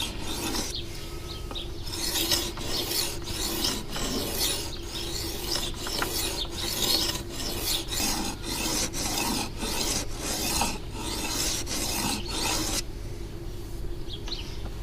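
Repeated rhythmic strokes of a knife blade scraping across a Fallkniven DC521 diamond/ceramic sharpening stone, a steady close rasping series of about a dozen passes with brief gaps, no talking.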